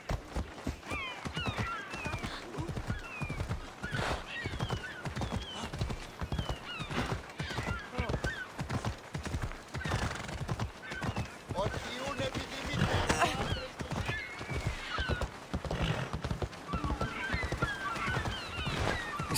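Horse hooves clip-clop in a steady rhythm through a game scene from Assassin's Creed Odyssey, with occasional whinnies and honking fowl mixed in, all under frequent talk from a player.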